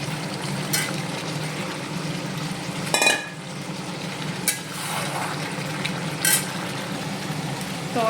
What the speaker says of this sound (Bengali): আলুটা এখন এর মধ্যে দিয়ে দিচ্ছি আমি